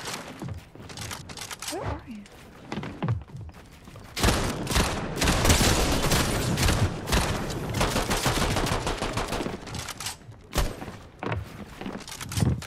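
Rapid bursts of assault rifle fire from a shooter video game crackle loudly and continuously through the middle stretch, with sparser shots and a voice talking near the start and end.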